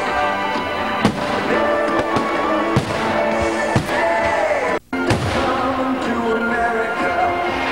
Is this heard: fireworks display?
yes